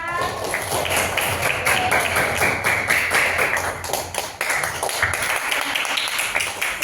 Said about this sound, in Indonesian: Kita beri aplaus dulu untuk temannya ya